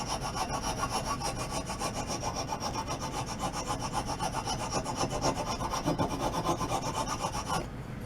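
Coarse side of a rasp scrapes along a wooden table leg under repair in fast, even back-and-forth strokes, a close, harsh rasping that keeps a steady rhythm for several seconds before stopping.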